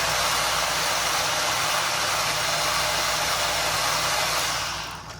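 A Traxxas X-Maxx RC truck drives at low speed, its electric motor giving a loud, steady, close whir throughout that fades at the very end.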